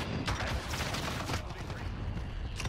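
Gunfire in the shooter Call of Duty: Modern Warfare on the Khandor Hideout map, a steady rattle of rapid shots at moderate distance, with a voice talking faintly in places.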